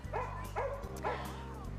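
Marlo the police dog barking in three sharp, evenly spaced woofs over a low, steady background drone, close and loud, with no talking.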